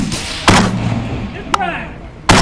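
Sharp, loud reports from an IWI gas gun at an outdoor shooting range, three distinct cracks spaced out, each followed by brief echo, with a voice talking between shots.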